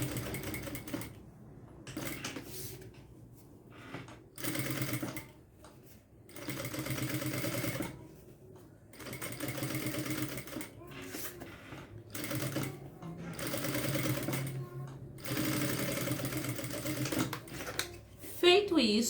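Domestic sewing machine stitching a straight seam in fabric for a spaghetti-strap edge, running in repeated bursts of rapid mechanical whirring separated by short pauses, with someone talking in between and over it.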